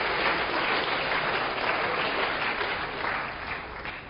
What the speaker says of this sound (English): Let's give another round of applause for Patrick.